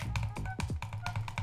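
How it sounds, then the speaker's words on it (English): Rapid butterfly clicking on a gaming mouse gives a quick run of sharp, close taps in an irregular rhythm, with faint tonal blips between them. "this is normal butterfly clicking."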